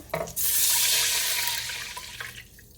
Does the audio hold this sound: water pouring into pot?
yes